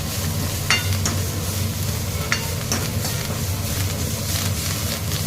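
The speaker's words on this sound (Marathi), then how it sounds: "मी कोथिंबीरच ॲड केलेली व्यवस्थित मिक्स करायचं" Besan zunka with fresh coriander stirred in a hot pan, a dense steady sizzle under a low hum, with intermittent light scrapes of a spoon, close and fairly loud, no voices.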